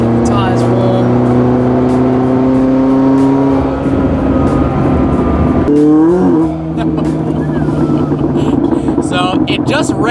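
A McLaren 600LT sports car with bald tires accelerates on a wet road, a loud engine pulling through rising gears with a shift midway, as people talk over the cabin noise.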